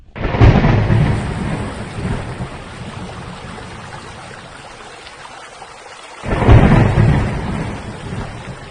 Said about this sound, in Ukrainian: Шумові звуки це звуки природи, дощ, вітер, грім.